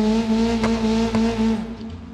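A Subaru in BeamNG.Drive runs over a sand and dirt track, its steady engine drone holding one pitch with a couple of brief scuffs from the tyres, and the sound eases off toward the end.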